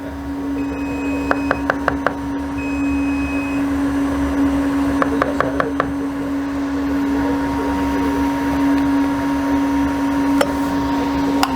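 A giant water ice machine churns Shirley Temple water ice, giving a steady mechanical hum with a strong constant tone, punctuated by occasional sharp clicks and knocks close by.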